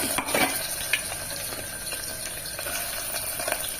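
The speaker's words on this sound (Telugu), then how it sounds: "వంటింట్లోకి వచ్చేసేసరికి దొండకాయలు వేయించేసేసుకుందాం నూనెలో" Ivy gourds (tindora) cut into rounds fry in hot oil, giving a steady, close sizzling hiss with occasional soft stirring sounds.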